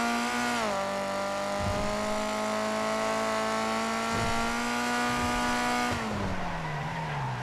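A naturally aspirated VW Brasilia engine revs hard under acceleration, a loud steady drone climbing in pitch, briefly dipping at a gear change and then easing off near the end.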